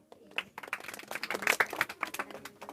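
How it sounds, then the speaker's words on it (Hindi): A school class of children applauding together after a correct answer in a general knowledge quiz, dense clapping throughout, fairly close, with a few voices mixed in. "ताली लगाओ।"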